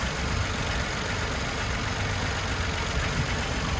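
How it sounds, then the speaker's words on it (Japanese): A 2017 Mitsubishi eK Wagon Custom T turbo kei car idles steadily with its engine on, a close, even mechanical hum with no talk, on a cold day. "はい、エンジンオンです。"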